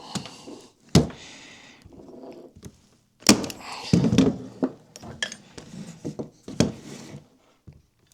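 Wooden National beehive frame pieces are fixed together with a nail gun and hand-driven nails, giving sharp separate thunks and taps at irregular intervals, with quieter handling of wood and small clinks between the hits.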